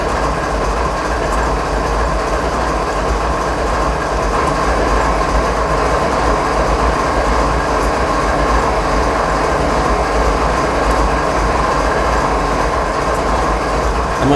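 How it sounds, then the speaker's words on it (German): An ES44AC diesel locomotive in Train Simulator rumbles continuously, with wheel and rail clatter blended into a dense, steady engine roar that stays loud and unchanging throughout, with no talking. "Amerikanische typische Lok."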